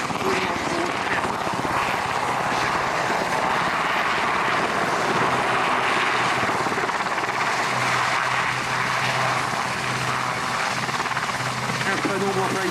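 RAF Sea King HAR3 helicopter flying a search-and-rescue demonstration, a continuous loud rotor and engine drone with steady thumping, with a commentator's voice over it.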